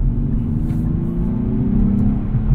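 A 2024 Nissan Z with a six-speed manual gives a steady, loud low engine rumble with a slight rising rev partway through, running continuously close by.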